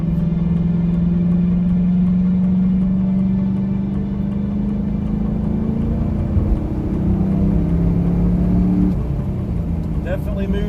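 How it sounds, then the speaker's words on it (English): A stock 2002 Chevrolet Camaro SS, 35th Anniversary edition, with its V8 engine and exhaust pulling hard in a steady loud drone that climbs slowly in pitch as the car accelerates, heard close from inside the car. "I love the sound of the exhaust."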